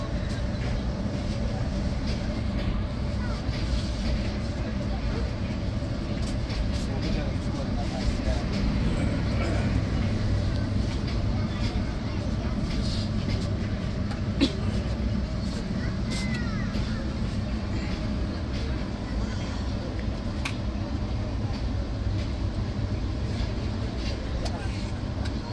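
The Kalni Express leaves Harashpur railway station on its Sylhet to Dhaka run. A low, even rumble and rattle of the moving train goes on throughout, with voices faintly underneath.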